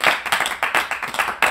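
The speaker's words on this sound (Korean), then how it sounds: "우리 고생한 우리 아미 여러분들과 우리를 위해 박수 한번 칠까요?" A few people clap together during a live stream, about eight sharp, close claps in an uneven rhythm, with no talking.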